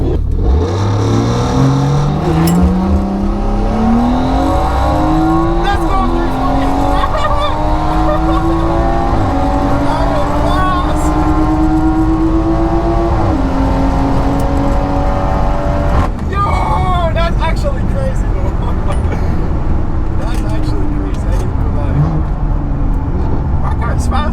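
BMW 340i with a stock turbo drag racing an Audi R8 at a drag strip, engines revving and accelerating hard through rising gear pulls over about twenty seconds, loud and close, with people talking over the roar.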